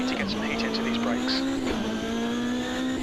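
A steady, loud race car engine drone in the video game Automobilista 2 holds a constant pitch throughout, with faint chatter and higher tones layered on top.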